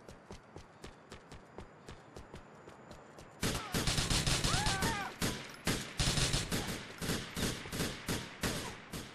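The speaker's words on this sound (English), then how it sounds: "Shots fired." Gunfire in GTA IV during a police roleplay in an alleyway, a steady series of sharp shots that turns into louder, rapid volleys partway through.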